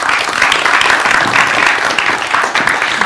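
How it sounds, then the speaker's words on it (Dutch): Warm audience applause at a tech festival debate as a D66 politician is introduced, loud and continuous dense clapping from a sizeable crowd. "Allereerst een warm applaus voor Lisa van Ginneken van D66."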